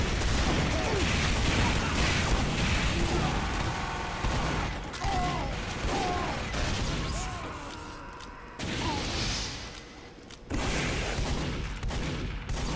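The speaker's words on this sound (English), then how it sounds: "I need a soldier to shooting rockets at me" Rocket launcher fire and explosions from a Soldier in Team Fortress 2, a dense, continuous barrage of blasts and crashes with game effects layered on top, nearby and loud, with brief drops in between.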